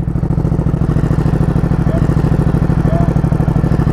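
Ducati Diavel 1260 motorcycle ridden gently in urban mode, a loud, steady, close engine drone with a rapid pulsing beat running throughout.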